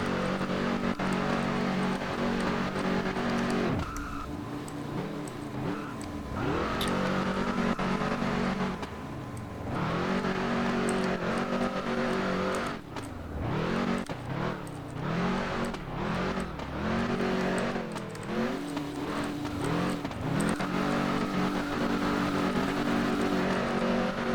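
A Lada engine in the Roblox game Redline Drifting revs and winds up repeatedly, its pitch sweeping up and down through gear changes and throttle bursts during drifting, loud and continuous with no speech.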